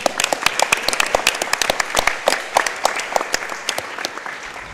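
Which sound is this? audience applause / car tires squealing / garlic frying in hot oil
audience applause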